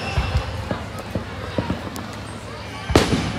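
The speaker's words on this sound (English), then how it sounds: "I hear other fireworks, I think." Distant Fourth of July fireworks pop irregularly, with several faint thuds and one louder burst near the end, under steady outdoor background noise and people talking.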